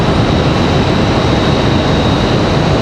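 A JetBlue airliner from Boston roars past an airport spotting point at Raleigh-Durham, a loud, steady broadband jet rumble filling the whole moment without any voices.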